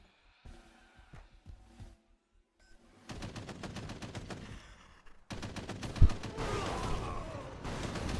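A Warhound unit in a video game opens up with sustained machine-gun fire, steady rapid bursts that grow louder after a few quiet opening clicks and keep rattling to the end.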